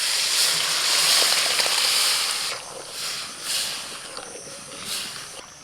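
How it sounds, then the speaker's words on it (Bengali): Thick lentil dal poured into a pan of hog plums seasoned with salt and turmeric, a soft sloshing, hissing pour that swells and fades in a few waves at close range. "এবার ডাল ঢেলে দেবো।"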